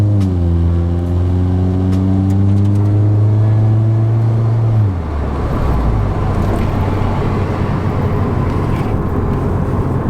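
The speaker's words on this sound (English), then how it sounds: "that exhaust is really loud" A Nissan's loud, droning exhaust rumbles and revs up in pitch, then gives way to rough road and wind noise as the car drives on.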